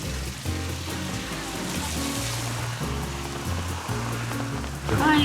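Steady rain falls in Guatemala, a dense, even hiss of drops on surfaces that runs unbroken from start to finish, with no voices.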